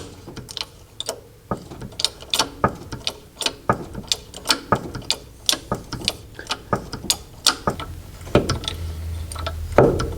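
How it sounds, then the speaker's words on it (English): The front suspension of a Costello car clunks repeatedly as it is jacked up, a close series of sharp metallic knocks coming in a fairly regular rhythm with no voices. "I'm jacking up the suspension and that's what you hear, the clunking."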